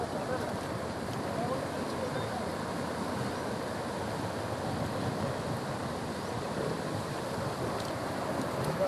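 Steady rushing floodwater roars without a break over a cremation ground, a broad continuous wash of fast-flowing water, with wind buffeting the microphone.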